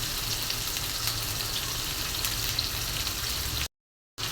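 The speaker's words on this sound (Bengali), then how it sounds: "পেঁয়াজটা তেলে ভেজে নিচ্ছি" Sliced onions and green chilies fry in hot oil in a pan, a steady close sizzle and crackle that runs evenly before cutting to a brief silence near the end.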